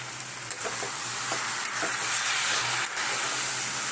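Ash gourd curry sizzling steadily in a pan after roasted cumin is added, with a continuous loud frying hiss and a few soft stirring scrapes, close and without voices.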